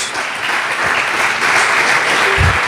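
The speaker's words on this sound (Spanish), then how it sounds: "denle ese aplauso a Jesús" A church congregation claps for Jesus at a Spanish-language service, loud and sustained applause filling the room, with a brief low thump near the end.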